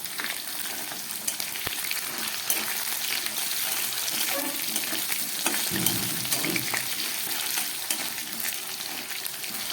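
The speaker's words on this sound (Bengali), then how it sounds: "আলুগুলোকে একটু ভেজে নিচ্ছি।" Potatoes frying in a pan, a continuous close sizzle and bubbling of oil with occasional stirring scrapes, steady throughout.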